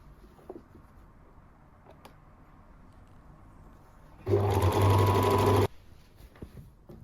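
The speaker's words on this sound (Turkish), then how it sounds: "Bir makineye çekeceğim. Gerdirerek dikiyorum." A sewing machine whirs in one loud, steady burst of about a second and a half as it stitches the armhole of a blouse, set against a quiet room with faint handling noises before and after.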